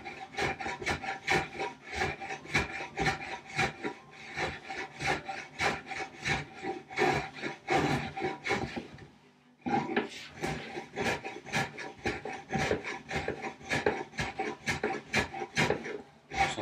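A spokeshave shaping the wooden well of a treadle stone, steady rhythmic rasping strokes close up, repeated many times with a short pause midway.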